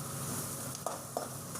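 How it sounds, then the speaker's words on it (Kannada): Chopped onion and fennel seeds frying in butter, a brief steady sizzle with a couple of soft stirring scrapes, no talking. "ಒಂದು ಈರುಳ್ಳಿನ ಚಿಕ್ಕದಾಗಿ ಕಟ್ ಮಾಡಿಕೊಂಡು ಫ್ರೈ ಮಾಡ್ಕೊತಾ ಇದ್ದೀನಿ"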